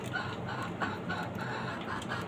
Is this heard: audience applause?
no